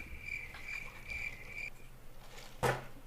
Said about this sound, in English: I did. Crickets.